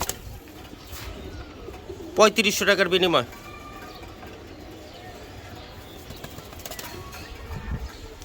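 Young racer pigeons give a brief burst of cooing and wing-flapping, then quieter rustling, while someone talks nearby.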